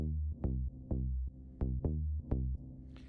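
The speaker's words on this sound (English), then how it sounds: "a bass line, which sounds like this." Synth bass line from the Chicago gadget in Korg Gadget 3, a deep, punchy pattern of short repeating notes in a steady rhythm, loud and clean with no talking.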